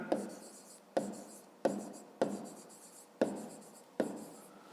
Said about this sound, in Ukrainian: Записуємо тоді периметр.